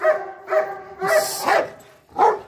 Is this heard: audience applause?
no